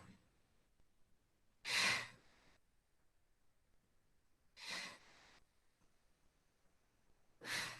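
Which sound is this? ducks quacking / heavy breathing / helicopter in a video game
heavy breathing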